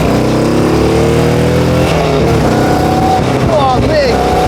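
An old Morgan, an English sports car, revs hard and accelerates up through the gears close to the microphone, its engine note climbing in loud rising sweeps.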